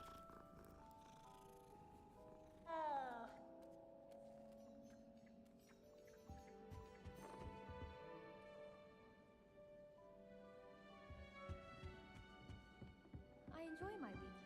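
A cat in the video game Hogwarts Legacy purrs as it is petted, a soft rumbling purr running under game music and ambience, with chimes and brief louder swells partway through.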